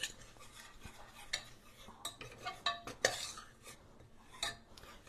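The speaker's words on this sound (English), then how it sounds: "you're going to stir it around and let it absorb all the butter" Flour being stirred into melted butter in a pan for a spinach and ricotta roll-up sauce, with quiet irregular scrapes and clinks of a utensil against the pan over about five seconds.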